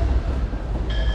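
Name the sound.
Bucharest-Chișinău sleeper train arriving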